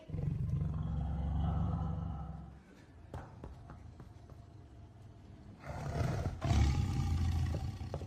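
A tiger gives a deep, loud, rumbling roar that fades, then roars again several seconds later, close by and dominating the scene.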